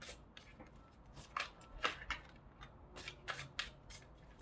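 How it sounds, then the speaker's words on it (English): Large tarot cards being shuffled in a quick series of soft riffling bursts and flicks, close by, with no talking. "I definitely will have to get used to shuffling"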